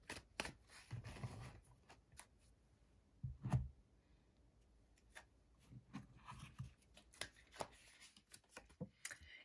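Close, quiet shuffling of I Ching cards, with soft riffling bursts and papery flicks and taps coming in uneven clusters.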